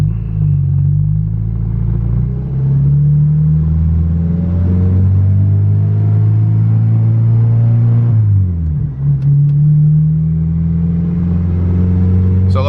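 A turbocharged LS VTEC Civic hatchback on pump gas drones loudly from inside the cabin while driving, its engine note rising steadily, dipping briefly, then climbing again under continuous road rumble.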